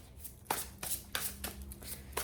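Tarot cards being shuffled give three separate bursts of crisp riffling and slapping, close up, with quiet pauses between them and no talking.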